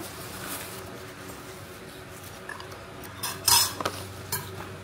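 Cutlery and dishes clink as food is moved onto a plate during a meal at a Kapampangan staycation, with scattered light clatters and a few sharper knocks over a quiet room background.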